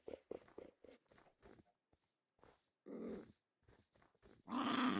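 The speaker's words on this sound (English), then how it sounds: "I saw a cute wolf." A wolf in the video game Minecraft growls in several short, low bursts, fairly quiet and separated by gaps, ending in a louder rough burst.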